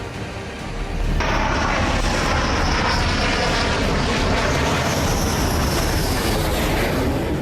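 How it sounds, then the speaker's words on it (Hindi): Rafale fighter jets with a Sukhoi 30 MKI escort roar overhead, a dense, loud jet rumble that rises sharply after a second and then holds steady and powerful, with no talking. "5 राफेल फाइटर जेट के साथ 2 सुखोई 30 MKI लड़ाकू विमान मौजूद थे।"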